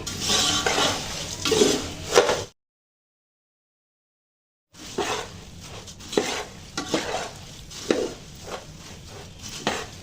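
Spoon stirring a dry mix of spiced puffed rice in a pan, a scraping, rustling clatter that stops for a silent gap of about two seconds and then resumes in uneven strokes.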